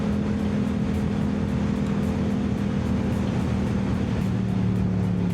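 A Yamaha R7 motorcycle fitted with an R6 throttle tube runs with a steady, moderately loud engine drone throughout, with no talk over it.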